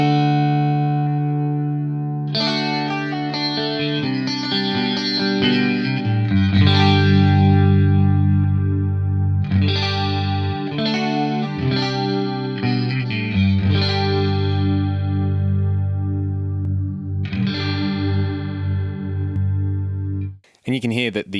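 An electric guitar runs through an AX8 processor's short modulated delay set around 20 milliseconds, with strummed chords and picked notes taking on an increasingly warbling, chorus-like shimmer as the LFO depth rises.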